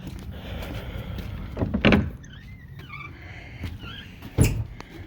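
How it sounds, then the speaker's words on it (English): Doors at a horse barn at Royal Oaks Equestrian Center slide and rattle open in a few loud scraping bursts, with faint creaks and chirps in the quiet between. "As we open these doors"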